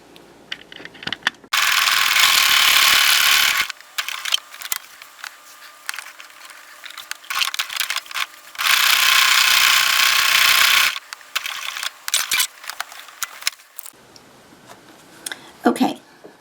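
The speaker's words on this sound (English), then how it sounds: "go to the sewing machine and we're going to sew a seam on each side of that string" A sewing machine stitches a seam through denim in two sustained whirring bursts, separated by clicks, handling noises and mechanical clatter nearby.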